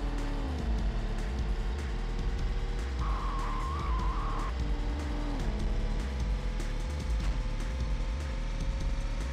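A car engine drones steadily in the Test Drive 4 racing game on PlayStation, with tires squealing and skidding and short engine pitch shifts throughout, and no talking.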